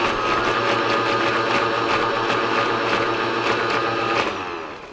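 A kitchen blender whirs steadily as it purees goat cheese with gelatin for an aspic, a loud continuous motor drone with a faint rhythmic pulse, easing down at the end.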